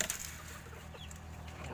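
A backyard laying hen gives a few quiet, close clucks from its covered nest amid low background hum.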